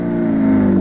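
A Suzuki B-King motorcycle shifts gear and pulls away, its engine note rising into a close, loud, steady droning rev for under a second.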